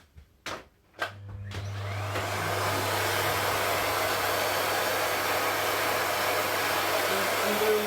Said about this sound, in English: I have a cup of tea and I have a Hoover